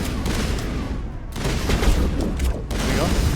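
Sustained gunfire from a Mass Effect battle, dense rapid bursts of shots and heavy booms coming in waves with a brief lull in the middle, loud and close.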